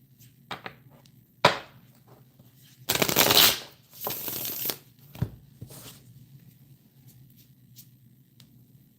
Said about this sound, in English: Let me get a good shuffle in here.